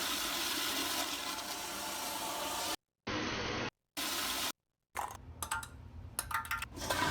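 A household toilet flushes with a loud rushing surge of water, broken by brief gaps, then gurgling and splashing as the bowl drains and refills.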